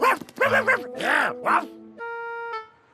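A voice imitates a dog with a quick series of yips and bow-wow barks, then a steady horn-like tone holds before cutting off.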